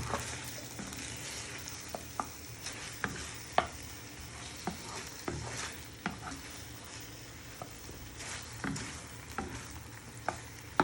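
Party food being stirred in a pan to coat it, soft scraping and light knocks of a utensil at an irregular rhythm over a faint continuous sizzle, close and fairly quiet.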